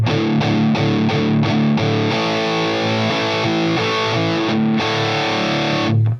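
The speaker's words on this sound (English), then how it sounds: "Here it is without all the stuff. This is just the Archon" A dry electric guitar runs through the Archon amp model on a Line 6 Helix LT, giving distorted, chugging chords that open into sustained ringing riffs. Loud and close, then cut off abruptly at the end.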